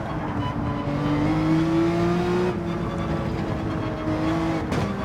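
Porsche 911 race car in Gran Turismo 7 holds a steady, loud engine drone with rising and falling revs through gear changes, continuous across the whole stretch with no talk.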